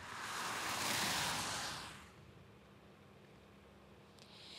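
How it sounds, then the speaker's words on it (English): Storm floodwater rushing like a river across yards and pouring over a road's edge, a loud broad roar of churning water that swells up close and then drops to a lower, steady rush. "It flowed like a river across yards and cascaded over the road's edge like a waterfall."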